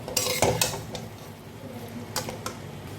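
Spice paste is stirred into papaya and potato in a pot, with a spoon scraping and clinking against the metal in a few sharp knocks over a quiet background of stirring.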